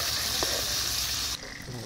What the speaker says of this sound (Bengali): ঠিক এইভাবে সবগুলো মাছ উল্টে পাল্টে আমি একটু ভালো করে ভেজে নিচ্ছি।